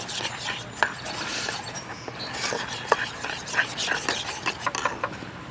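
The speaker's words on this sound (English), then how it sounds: "I'm just going to stir this up and" Cinnamon roll glaze stirred in a bowl, a utensil clinking and scraping in an irregular run of light taps and knocks, close and moderately loud.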